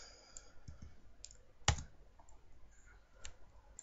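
Computer keyboard keys pressed while typing a command, a few soft clicks followed by one sharp, loud keystroke like the Enter key near the middle, then faint taps; quiet room, no talk.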